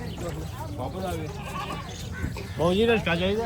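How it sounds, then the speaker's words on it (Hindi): A Rajanpuri desi goat bleats loudly up close with a wavering cry at a Lahore livestock market, while people talk in the background. "ये बकरा है, मैं आपको दिखाता हूँ।"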